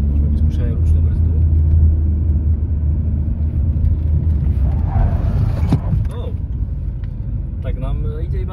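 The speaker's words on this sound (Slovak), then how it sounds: "Môžeme vyskúšať aj ručnú brzdu." A car being driven with its handbrake pulled, giving a steady low engine and road rumble throughout, near and loud, with a voice talking over it.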